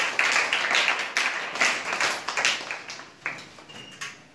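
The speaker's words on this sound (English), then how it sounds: "Clap for your tutor." A classroom of students claps for their tutor, a dense burst of applause that thins into scattered individual claps, close and fairly loud.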